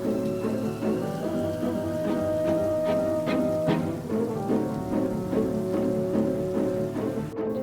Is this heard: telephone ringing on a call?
no